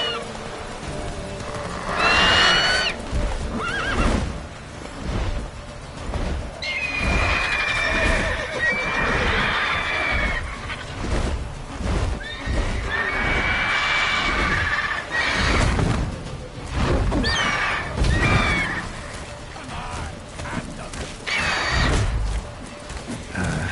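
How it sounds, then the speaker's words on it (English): A horse in The Witcher 3 whinnies loudly several times over a busy game soundscape, with hoof clops and thuds scattered throughout. "Whoa there, Roach."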